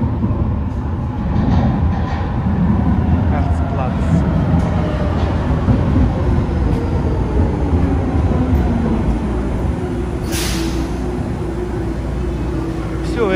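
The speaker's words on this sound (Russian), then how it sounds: "Все, едет наше метро. Поезд подходит." An older Vienna metro train pulls into a station and keeps rolling with a loud, continuous low rumble and rail roar, steady throughout with a brief higher screech partway through.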